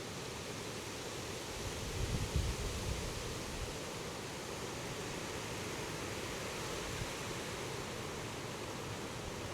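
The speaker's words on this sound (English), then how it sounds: "Listen to that wind." Wind rushes through poplar leaves in the woods as a steady, dense broadband hiss that swells slightly early on and then holds even, loud and close, with no voices.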